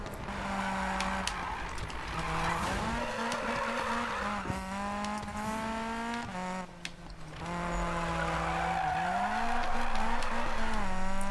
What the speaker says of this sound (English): let's see if this car can actually handle a little bit of drifting here with without the brake drift assist